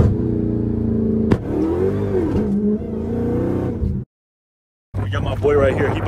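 A Dodge Hellcat with a ported supercharger snout revs hard and close, its engine note rising and sweeping between pulls. It cuts out abruptly for under a second, then roars back, with a voice briefly mixed in.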